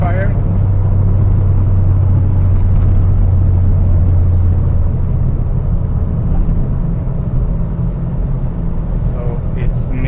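SAAB 9-5 Aero engine running roughly with a misfire and backfire, a loud continuous low rumble throughout with heavy droning engine noise, a brief sharper pop near the end.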